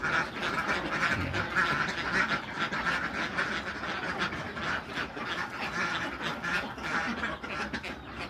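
Ducks that no longer lay eggs quack continuously as a dense flock, many overlapping calls close by and fairly loud throughout.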